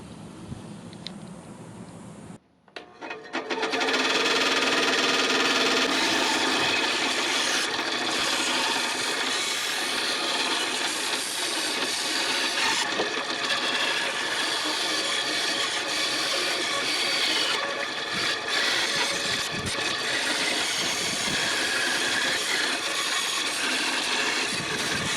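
A power saw cuts steadily through the base of a snail sculpture, starting after a brief quiet moment and then running loud and continuous, with a harsh broadband whine that barely changes for the rest of the stretch.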